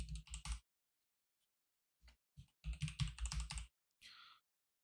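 Quick bursts of typing on a computer keyboard during motion graphics work in After Effects, close and clear keystrokes in short clusters separated by silent pauses.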